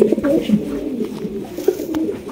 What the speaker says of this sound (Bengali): আর এই কবুতরটা কিন্তু এখন ডিম দিবে